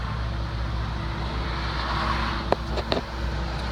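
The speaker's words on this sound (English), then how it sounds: "Look at this traffic, man." Road traffic heard from inside a car, a steady low engine and road rumble with a few brief clicks and knocks partway through, and no talking.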